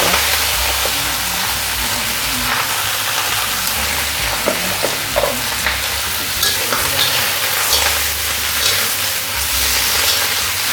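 Cabbage stir-fries in a wok over high heat, a loud continuous sizzle and steamy hiss with scraping and tossing rhythms from stirring, heard close and alone.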